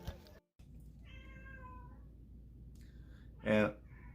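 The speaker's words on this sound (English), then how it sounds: "this cat won't shut the fuck up!" A cat meows loudly in the background at a citywide yard sale: a drawn-out call, a shorter cry, then a sharp, louder yowl near the end, all over a low steady hum.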